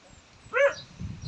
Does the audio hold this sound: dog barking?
yes